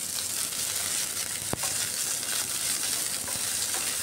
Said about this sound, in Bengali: কুচনো পেঁয়াজটা দিয়ে একটু ভালো করে লাল লাল করে ভাজতে হবে পেঁয়াজটাকে।